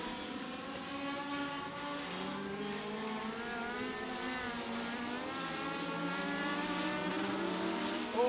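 Several race cars lap Beckley Motor Speedway in a local-class heat race, their engines droning steadily with overlapping rising and falling pitches as the pack holds close, loud and continuous with no voices.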